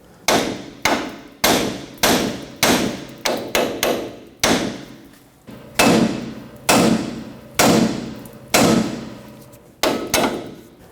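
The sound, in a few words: hammer tapping steering knuckle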